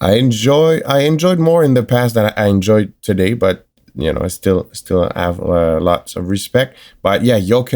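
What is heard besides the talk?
No everyday noises stand out.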